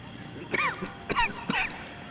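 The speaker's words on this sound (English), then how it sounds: "And I still have this stupid cough." A character in the video game Saints and Sinners coughs three times in quick succession, each a short sharp burst, close and fairly quiet against a low background.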